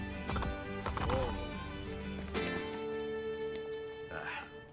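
Horses clip-clop through a street scene in Assassin's Creed: The Ezio Trilogy, steady hoof beats with a whinny mixed under game music and a character's voice speaking over them.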